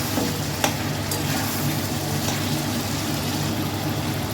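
Chicken stirred and fried in a pan with chili spice, a steady close sizzle with occasional scrapes and clinks of a spoon against the pan, continuous and fairly loud with no talk.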